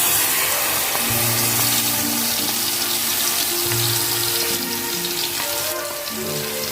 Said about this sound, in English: Fry 2 minutes.